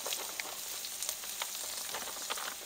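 Shrimp and rice for jambalaya sizzle steadily on a hot griddle, a dense continuous crackle with small pops scattered throughout, close and fairly loud with no talking.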